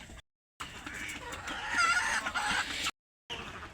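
Native village chickens clucking with a rooster crowing, close and fairly loud, in bursts separated by brief silent gaps.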